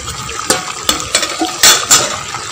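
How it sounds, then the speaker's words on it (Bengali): Pre-fried potatoes tipped into a cooking pot of curd for Kashmiri aloo dum, a few close, sharp clatters and scraping knocks of utensil against pot, some soft stirring between, no talking. "এবার এই যে আগে থেকে ভেজে রাখা আলুগুলো দিয়ে দিলাম।"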